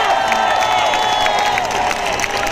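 A large crowd at an outdoor anti-vaccine, anti-mask protest claps and cheers loudly and continuously, a dense roar of applause with scattered voices mixed in.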